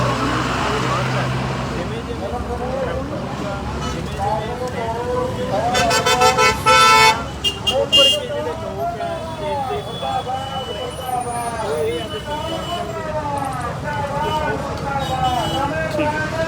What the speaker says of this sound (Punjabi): ਇਹ ਸਾਨੂੰ ਦੇਖ ਸਕਦੇ ਹੋ ਤੁਸੀਂ ਟਰੈਕਟਰ ਤੇ ਮਾਰਚ ਕੱਢਿਆ ਜਾ ਰਿਹਾ ਹੈ